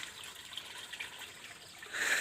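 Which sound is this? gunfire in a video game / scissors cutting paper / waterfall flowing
waterfall flowing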